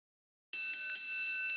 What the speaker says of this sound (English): And there's the bell to start things off.